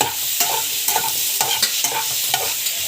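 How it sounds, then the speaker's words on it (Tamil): Tomatoes and cinnamon sautéing in a pan, a steady sizzle and hiss broken by regular scraping strokes of a stirring spoon, close and loud with no voices. "பட்டை ஆட் பண்ணி நல்லா வந்து வதக்கிக்கோங்க"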